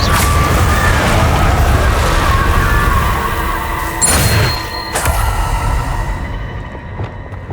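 Confringo blasting spells in Hogwarts Legacy, loud layered explosive bursts over a rumbling, crashing game soundscape, with a couple of sharp blasts around the middle before the noise thins out near the end.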